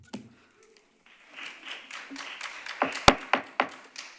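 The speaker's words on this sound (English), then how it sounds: "No clapping, thank you." Scattered claps from a small audience at a planning commission meeting, starting sparse after a quiet moment, then a few people clapping unevenly in short, sharp hits that build slightly before trailing off.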